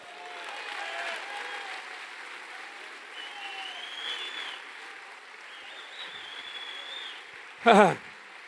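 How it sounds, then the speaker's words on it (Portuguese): A church congregation applauds with a low, steady wash of clapping while voices call out over it in sustained tones, and a short loud burst cuts in near the end. "Você pode aplaudir o Senhor mais uma vez?"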